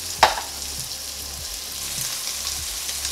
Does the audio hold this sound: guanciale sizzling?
yes